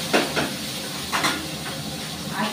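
Puti fish frying in oil: short bursts of loud, close hissing sizzle rise and fall several times over a couple of seconds.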